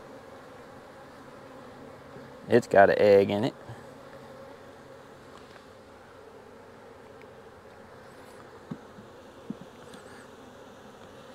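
Honey bees buzz in a steady, faint hum as frames are shaken out of a nuc during transfer into full-size equipment, with one louder, brief burst of agitated buzzing and a few small knocks; a voice speaks briefly.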